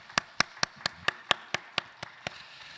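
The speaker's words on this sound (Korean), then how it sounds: "영광의 박수 올려드리겠습니다." A church congregation at a Sunday service claps in unison: ten evenly spaced, crisp claps at a brisk, steady beat, fairly close and clear, with no voices over them.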